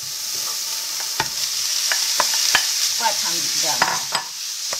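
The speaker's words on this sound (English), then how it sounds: "Now add the ground beef," Ground beef frying in a pan for a bolognese sauce with carrot and paprika, stirred with steady sizzling and repeated scraping knocks of the utensil; a voice speaks briefly over it.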